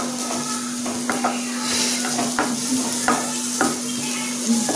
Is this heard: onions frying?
yes